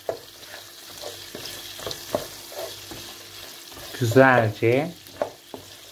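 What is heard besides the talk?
stirring bulgur with pepper paste in a pan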